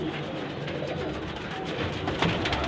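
Ferozepuri and Teddy breed baby pigeons in a Lahore loft give soft, overlapping coos and chirps, a steady busy murmur close by with no talking.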